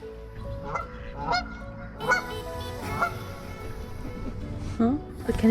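Canada geese honk repeatedly on the water near Picton, Ontario, with a series of loud, nasal calls spaced a second or so apart, close by and fairly prominent.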